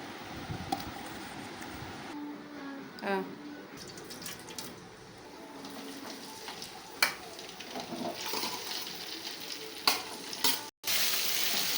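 Okra curry sizzling and frying in a pan as it is stirred, a steady close crackle with scraping stirs and a few clanks from the utensil, under a voice speaking Telugu.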